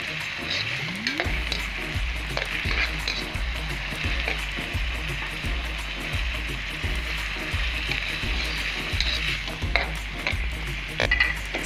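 Onions with ginger garlic paste fry in oil, a continuous bright sizzle with rhythmic thumping of a spoon stirring against the pan throughout.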